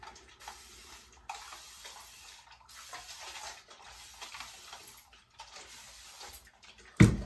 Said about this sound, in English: Next, you're going to use your spray bottle.